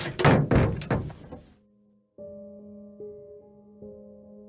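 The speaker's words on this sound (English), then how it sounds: "in a manifestation so sudden and powerful, the window slams shut" A window slams shut in a single sudden thunk after a burst of rustling, followed by a low sustained eerie tone that swells in steps, alone with no talk.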